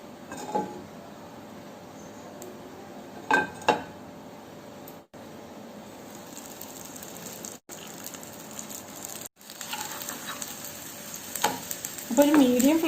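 Flatbread frying in oil in a pan on a stove, with a steady soft sizzle and a few louder bursts and clinks as it cooks.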